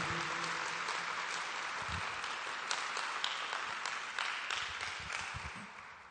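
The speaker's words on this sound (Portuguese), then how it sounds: "Você pode aplaudir o nome de Jesus?" A church congregation at the Comepe 2017 gathering applauds steadily, a broad sustained wash of clapping from a large crowd that tapers off slightly at the end.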